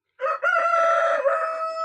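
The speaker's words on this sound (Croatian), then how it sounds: "Kukuriku, koji put već." A rooster crows once, loud and close, a long drawn-out call with a brief break near the start. There is no talking over it.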